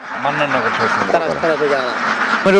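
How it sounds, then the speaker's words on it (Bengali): Khaki Campbell ducks kept on a wetland farm, a run of close, raspy quacks in quick succession, with a voice briefly overlapping near the end. "এটা আমার ক্যাম্বেল হাঁস"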